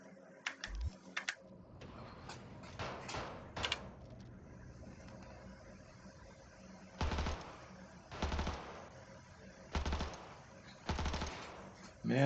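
Gunfire from a firearm fitted with a muzzle device at a test range in Cyberpunk 2077, several sharp bursts of rapid shots spaced a second or two apart, loud and close, with brief quieter gaps between.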